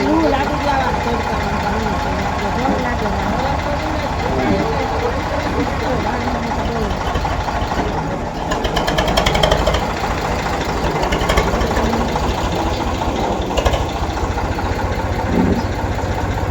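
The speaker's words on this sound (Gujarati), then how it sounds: "નવું નવું મસ્ત ટ્રેક્ટર લીધું છે" A newly bought tractor's engine idles with a steady low rumble throughout, while several people talk loudly over it.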